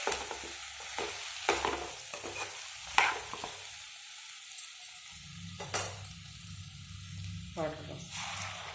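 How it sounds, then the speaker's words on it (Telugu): Cashew and drumstick curry being stirred in a pan: scattered scraping and clinking spoon strokes over a soft sizzle, with a louder bubbling, frying stretch toward the end. "ఒకసారి కలిపేసుకొని"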